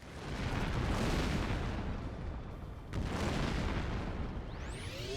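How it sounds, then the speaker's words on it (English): Grenade blasts in the game GoldenEye: Rogue Agent, two heavy rumbling explosions in a row, loud and sustained, with debris-like crackle fading between them and no talk. "Here, have a grenade. Have another one. And another one."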